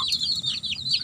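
Chickens cluck in a simple coop, several close, soft clucks and chirpy calls in quick succession, with no voices.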